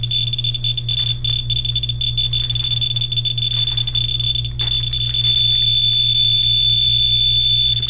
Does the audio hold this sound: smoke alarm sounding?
yes